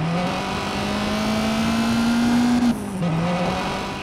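A Lancia Delta rally car engine drones in the WRC 9 video game, its pitch climbing steadily as it revs up and then dropping sharply at a gear change, over constant road and gravel noise.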